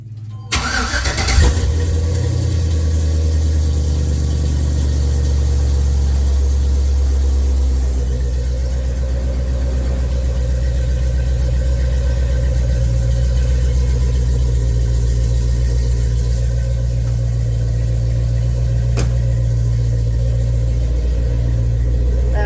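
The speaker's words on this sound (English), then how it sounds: "Let me go ahead and fire it up in the shop here." An LS-swapped 1990 Chevrolet Silverado shop truck cranks and fires inside a shop, catching quickly and settling into a loud, steady, deep idle that holds for the rest of the stretch.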